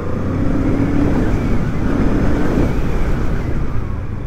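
A Honda CL500 scrambler motorcycle rolls slowly through water at about 20 km/h in third gear, its low engine rumble mixed with steady splashing and wind buffeting the microphone, continuous and close throughout.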